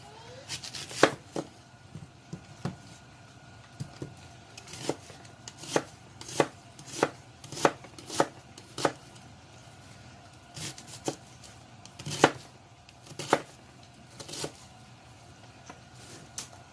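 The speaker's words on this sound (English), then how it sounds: "I'm going to go ahead and start by cutting up 1 onion" A knife chops an onion on a cutting board for a white chicken chili, giving a run of crisp, close knocks in irregular clusters with short pauses between them and no talking.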